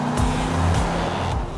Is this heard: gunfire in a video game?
no